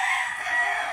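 A gamecock rooster at a game farm lets out a single short, fairly faint crow that stays clear and unbroken, with no other sound around it.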